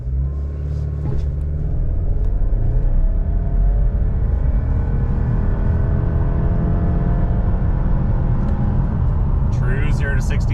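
A 2023 Subaru Legacy Sport Turbo accelerating hard from a standstill to 60 mph in Sport Sharp mode with traction control off, heard from inside the cabin as a loud, steady engine rumble with rising gear whine.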